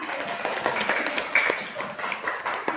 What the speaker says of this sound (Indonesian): silakan tepuk tangan untuk Diva